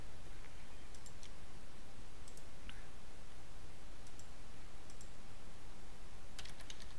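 Password typed on a computer keyboard at a Windows Server login, a few scattered light clicks and short bursts of keys over a steady hiss, with no one speaking.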